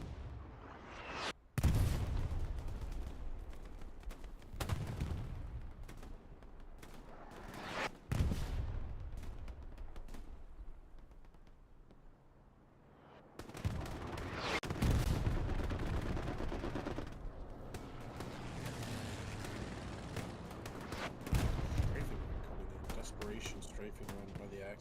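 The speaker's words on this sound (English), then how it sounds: "Axis getting farmed by HE shells." Artillery HE shell impacts and gunfire in a multiplayer war video game, sharp explosive blasts every few seconds with rumbling decay, bursts of shooting between them, and a commentator talking over the action.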